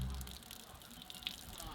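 Running water from a tap at a tourist site near a waterfall in highland Bali, used for handwashing, giving a steady, close gush and splash lasting under two seconds.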